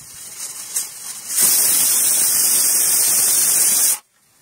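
A pressure cooker on high flame, cooking egg bhurji pulao rice, lets out a loud, steady rush of hissing steam for about two and a half seconds before it cuts off abruptly.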